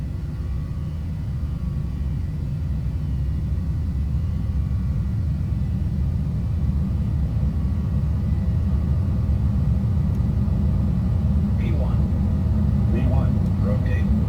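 Airliner jet engines at takeoff thrust during the takeoff roll, a steady loud low roar and rumble filling the cabin, with faint cockpit voices and brief tones near the end.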